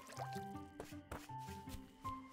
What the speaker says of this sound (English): Well, watering certainly expends a lot of energy.